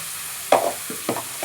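Coriander and curry leaves drop into a hot pan of spiced rice bath masala with sambar powder and turmeric, giving a short sizzling burst followed by two quieter crackling spurts, close and alone.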